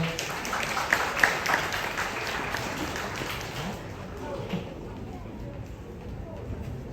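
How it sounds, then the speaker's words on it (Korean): Guests at a wedding ceremony in a hall applaud softly, a diffuse patter of clapping that is strongest early and thins out, with murmuring voices underneath. "여러분 박수 한번 부탁드리겠습니다"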